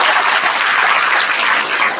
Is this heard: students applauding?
yes